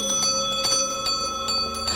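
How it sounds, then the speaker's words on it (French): Several house bells ring together in a chiming, overlapping peal, steady and fairly loud for the short stretch, as a sound effect in a French audiobook of Dickens's A Christmas Carol. "elle sonna à double carillon, et toutes les autres sonnettes de la maison se mirent de la partie"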